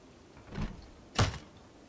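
Door opening in the survival game Project Zomboid: two short muffled thumps about half a second apart, the second louder and sharper, moderately quiet with no talk.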